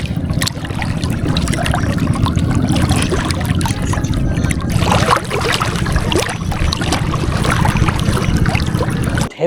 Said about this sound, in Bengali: ঢেউয়ের যে কলকলানি শব্দ, বসে বসে এটা অনুভব করছি।